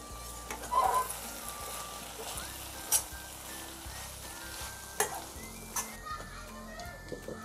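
Okra bhaji simmers in a pan over a medium gas flame, giving a soft, continuous sizzle with occasional stirring scrapes and light clinks of a utensil against the pan.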